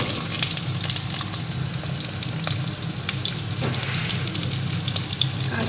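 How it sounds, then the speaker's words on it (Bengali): Potato and other vegetables frying in hot oil for shukto, a loud, steady close-up crackle and sizzle with faint stirring scrapes, no voices. "এবার একে একে সবজিগুলোকে সব ভেজে নেব তো প্রথমে আমি তেলে আলুটা দিয়ে দিলাম"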